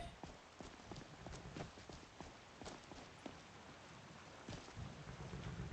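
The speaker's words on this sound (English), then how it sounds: "It starts to rain." Steady rain hisses across a Skyrim game scene, with irregular clip-clop hoofbeats from a horse-drawn carriage and clattering wheels running through it at close range, no voices.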